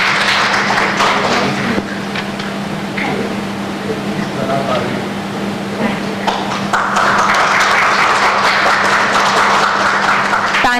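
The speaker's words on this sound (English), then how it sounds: "A big round of applause for all of them." Audience applause for a panel of speakers at a psychology panel discussion, a dense steady wash of clapping throughout with a constant hum underneath and voices mixed in.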